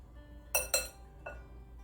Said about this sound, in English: Next, I'm whisking in my baking powder and baking soda.